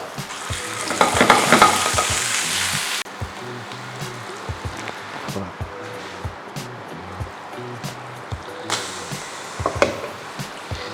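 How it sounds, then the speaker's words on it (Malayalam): Ginger garlic paste added to hot tempering oil for beef chaps bursts into a loud, close sizzle that fades to a quieter crackle with intermittent stirring scrapes, then briefly flares again near the end. "നമുക്കൊരു പിഞ്ച് ഇഞ്ചി വെളുത്തുള്ളി പേസ്റ്റ് നമുക്ക് താളിപ്പിലേക്ക് ചേർത്ത് കൊടുക്കാം"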